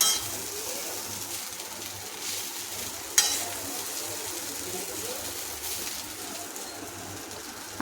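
Poha fries in a little oil with a soft continuous sizzle and occasional stirring scrapes, while pigeons coo faintly in the background and a single sharp click sounds midway.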